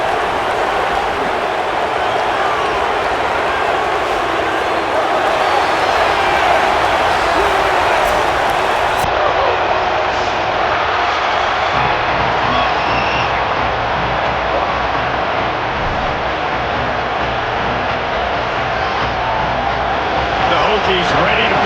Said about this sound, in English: The crowd has this place jumping already.